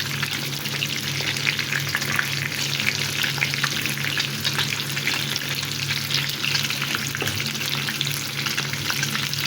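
Chicken pieces sizzle in hot oil in a pan, a steady, dense frying hiss with crackles and occasional light stirring, close and continuous for the whole stretch, with no talking.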